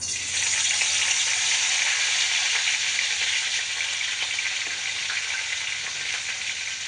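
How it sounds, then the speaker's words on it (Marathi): Cumin, mustard seeds and curry leaves fry in hot oil for an eggplant bhaji, giving a loud, steady, even sizzle that runs unbroken from start to finish with no one talking. "त्या अगोदर जिरे मोहरी टाकून घ्यायची, त्यामध्ये फ्राय करून घ्यायचं आणि कढीपत्ता टाकला."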